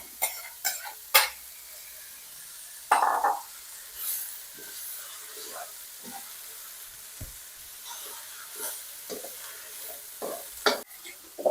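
Young pumpkin shoots are stir-fried with chili in a pan, with a spatula scraping and clattering in irregular strokes over a low sizzle. A brief cough cuts in once.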